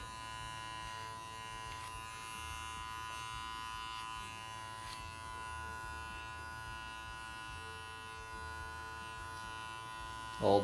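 Small electric hair trimmers buzz steadily up close while cutting hair during an undercut pixie haircut, a constant hum with a brief louder contact at the end.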